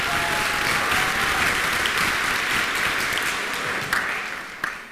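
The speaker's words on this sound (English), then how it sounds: "That was quite the applause, thank you." Sustained audience applause at a middle college class of 2023 commencement, a dense steady wash of many hands clapping that fades slightly toward the end, with no talking over it.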